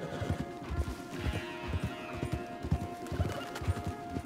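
Horses clip-clop steadily along a path in Red Dead Redemption 2, with rhythmic hoof thuds close by and an occasional neigh over a soft outdoor background.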